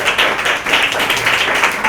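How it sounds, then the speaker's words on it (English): An audience at a religious talk breaks into a round of applause, loud close clapping in uneven bursts, the individual claps rippling rapidly across two seconds. "you deserve a round of applause for yourself"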